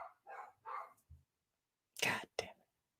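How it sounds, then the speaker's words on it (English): Dog indoors giving a few short, quiet barks and yips separated by pauses, with faint low-level sounds between them. "My dog is always barking at people"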